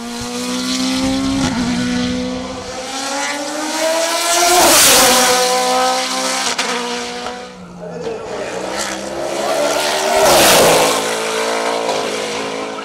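A Norma E2 SC sports prototype race car with a Mugen Honda engine on a hill-climb course at La Pommeraye, its engine wailing loud and close as it shifts through gears in rising and falling sweeps, passing and accelerating away.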